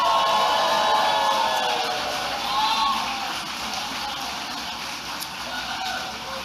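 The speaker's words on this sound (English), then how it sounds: "let's give our other candidates a round of applause" Crowd at a Wisconsin primary election night event cheering and applauding candidates, a broad wash of clapping and whoops that is loudest at first and then eases to a lower, sustained rumble.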